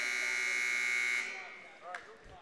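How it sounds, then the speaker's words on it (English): A loud, steady electronic buzzer blares for over a second in a high school holiday tournament basketball gym, then cuts off as a commentator starts talking. "As the buzzer sounded, there should be about 2 seconds left on the clock in the first quarter."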